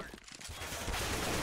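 Rapid gunfire from Counter-Strike: Global Offensive crackles in a dense, loud burst of shots that fills the brief moment without pause.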